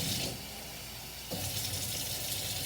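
Water from a tap pouring into a glove, a soft steady gush that eases off briefly and then swells again, faint and close with no talking.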